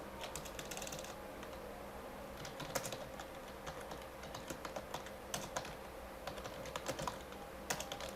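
Keys clatter on a computer keyboard as a short comment is typed, an uneven run of light close clicks and taps with brief pauses, over a faint steady room hiss and no voices.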